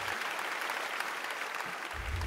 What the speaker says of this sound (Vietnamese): Một tràng pháo tay cổ vũ cho Gừng các bạn ơi.